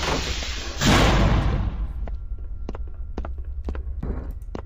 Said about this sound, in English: Close the door behind you